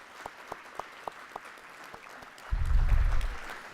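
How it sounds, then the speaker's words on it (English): Audience at a plenary session breaking into applause. A few scattered single claps come first, then a broader burst of clapping swells up near the end, moderately distant in a large room. "Can we give them a round of applause for telling their story?"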